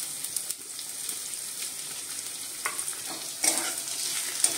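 Finely chopped onion sizzles steadily in hot oil in a pan, a continuous hissing crackle at moderate loudness, joined by a few light stirring scrapes toward the end.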